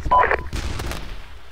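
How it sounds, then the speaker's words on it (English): An artillery gun fires in a multiplayer military video game: one heavy, booming discharge with a low rumbling tail that fades over about a second, loud and close, with a brief electronic tone just before it. "Another gun's firing."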